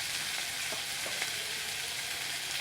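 Chopped onion frying in a pan for vada rassa, a steady dense sizzle with faint crackles running throughout at close range, no voices.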